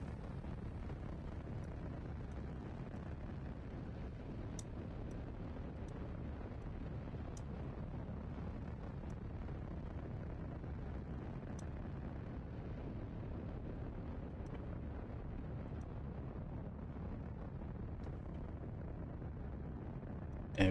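A rocket engine at full thrust in Kerbal Space Program, a steady low rumbling roar with a dense broadband hiss that holds loud and even throughout, with faint brief clicks on top and no voices.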